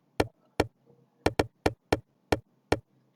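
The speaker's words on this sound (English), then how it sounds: "this nylon percussion, which is just the groove and the rhythm of the sound" A nylon percussion loop in an Afrobeat-style FL Studio beat plays crisp, dry knock-like hits in a syncopated groove, eight sharp strikes with small gaps and a couple of quick doubles, alone and close.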